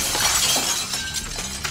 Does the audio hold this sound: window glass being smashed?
yes